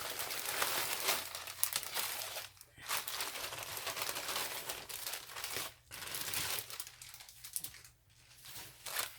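Crinkly plastic rustling and crackling as plastic bags are opened, continuing almost without pause with a few brief gaps, close up and fairly quiet.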